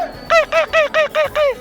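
A man at a Kabul bird market mimics a parrot's call with six short, sharp, nasal squawks in quick regular succession, close and loud over a quiet background.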